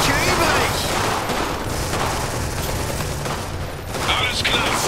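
Gunfire in the strategy video game Iron Harvest, a continuous dense battle din of rapid shots and mechanical clatter, loud throughout with no clear pauses; no speech.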